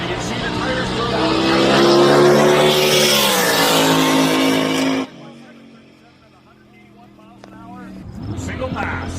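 A drag-racing Corvette with a 959-cubic-inch engine launches down the strip with tire spin, a loud roaring engine that climbs in pitch and then cuts off abruptly, leaving a fading drone before another engine swells; an announcer talks over it.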